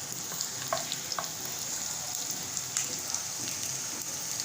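Garlic dropped into hot oil with cumin and mustard seeds, frying for a bean vegetable dish, giving a steady close sizzle and crackle with a few brief sharper pops and stirring clicks, no talking.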